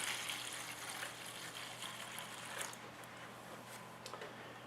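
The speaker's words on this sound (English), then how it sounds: "I'm going to pour some of this Super Clean in this bread pan" Super Clean degreaser being poured into a cheap metal bread pan, a faint, steady liquid trickle and splash running continuously without any talk.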